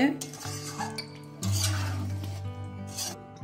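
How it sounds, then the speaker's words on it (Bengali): A spoon stirs Kashmiri aloo dum with ghee in a pot, scraping and clinking against the metal in short repeated strokes, close and clear with no talking. "এখন নেড়ে নেব।"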